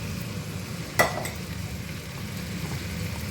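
Onion fries in a pan with meat for a celery stir-fry, giving a steady, moderate sizzle throughout, with one brief utensil clatter early on and no voices.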